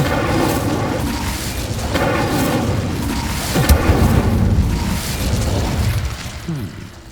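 A fiery Incendio spell blast from the Hogwarts Legacy game on PS5, with a burst about midway over a steady rumbling game soundtrack and mechanical clatter, loud and close throughout.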